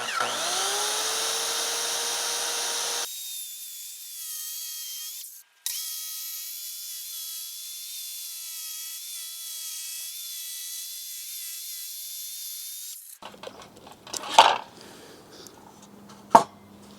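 Power saw ripping lengthwise through a wooden board for a sofa bed, a steady loud whine that runs for several seconds with a brief dip, then stops, leaving scattered clunks and handling noises.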